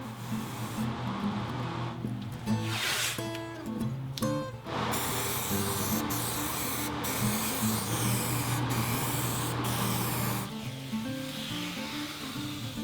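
A spray gun hisses steadily as paint is sprayed onto a wooden cabinet in a workshop, with the spray continuing over several seconds while faint music plays in the background.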